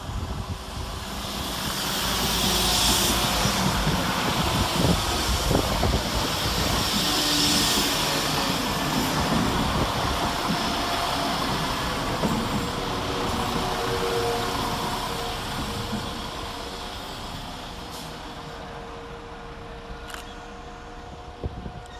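West Midlands Railway class 172 diesel trains 172211 and 172332 passing through Birmingham Moor Street station, a steady rumbling roar of wheels and engines building then slowly fading, with no talking.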